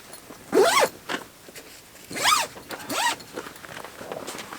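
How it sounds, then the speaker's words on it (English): A zipper on a privacy shower tent at a Land Cruiser camp setup is pulled in three quick, close rasping strokes with short pauses between them, loud and alone. "Zip to the side."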